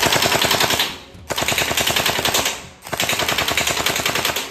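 Electric SLR gel blaster firing on full auto: three rapid, rattling bursts of closely spaced shots, loud and near, separated by brief pauses, with no talking.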